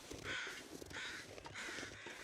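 Crows cawing in the survival game The Long Dark, three harsh, evenly spaced calls that are fairly loud over a steady windy outdoor hiss.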